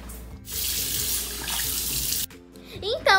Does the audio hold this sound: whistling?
no